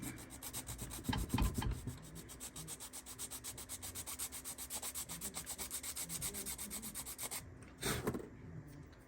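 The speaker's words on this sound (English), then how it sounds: "I take a little sand to it." Steady rhythmic hand sanding of a part on a brick nose Ford, rubbing back and forth in even strokes for about nine seconds, close and fairly quiet, with no talking.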